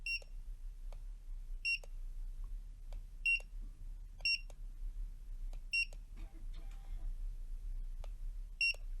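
A barcode scanner beeps repeatedly while books are scanned, giving short high-pitched chirps at irregular intervals of about one to two seconds over a low background hum.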